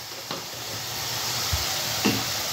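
Masala sizzles in hot oil while being cooked down for eggplant fritters (begun bora), giving a steady close hiss with a few soft stirring knocks and no voices.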